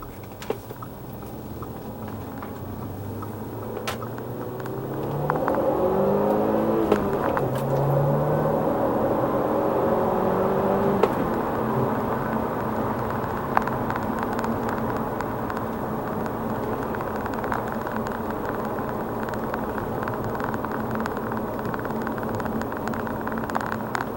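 An Audi B8 A4 out on a test drive, heard from inside as a steady engine drone and road rumble that swells a little after a few seconds and holds, with a few faint clicks.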